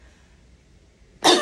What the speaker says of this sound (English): we're doing a nice forceful cough to try and get the phlegm out